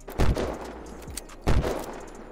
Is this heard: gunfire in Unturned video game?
yes